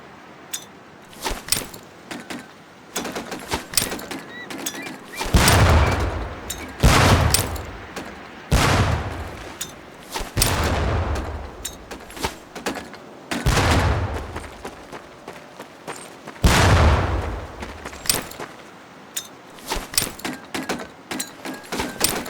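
Training grenades burst near barrels on a Medal of Honor Pacific Assault practice range, sounding as loud, close blasts spaced a few seconds apart, with sharp clanks and clicks between them.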